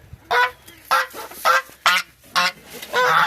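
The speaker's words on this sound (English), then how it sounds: "Now we got the ducks." Ducks and geese honking and quacking in a backyard at evening feeding time, six loud calls in a steady rhythm close to the microphone, with a faint background hum between them.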